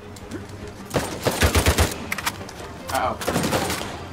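Gunfire in the Uncharted 4 video game: bursts of shots, several rapid ones near the middle, mixed with game sounds while someone talks over the action.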